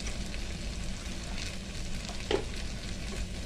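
Coriander and cumin powder frying in a pan for stuffed brinjal curry, a close, continuous crackling sizzle with a single brief stirring knock near the end.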